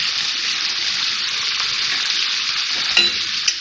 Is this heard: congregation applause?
no